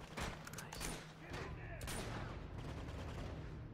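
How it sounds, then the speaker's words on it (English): Rapid bursts of AK rifle fire in the video game Uncharted 2, loud and close, with dense crackling shots running through most of the moment amid game noise. "now I do have an AK for this one"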